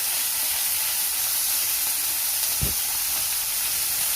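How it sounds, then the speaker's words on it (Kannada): Cut eggplant pieces fry in a pan with butter, giving a constant, fairly loud sizzling hiss throughout with one soft clunk partway through and no voices. "ಈಗ ಹೆಚ್ಚಿಟ್ಕೊಂಡಿರೋ ಬದನೆಕಾಯನ್ನು ಇದಕ್ಕೆ ಹಾಕಬೇಕು ಬೆಣ್ಣೆ ಮಿಕ್ಸ್ ಮಾಡಿ ಸ್ವಲ್ಪ ಹೊತ್ತು ಬದನೆಕಾಯಿನ ಫ್ರೈ ಮಾಡಬೇಕು"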